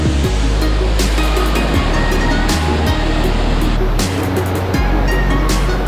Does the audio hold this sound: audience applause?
no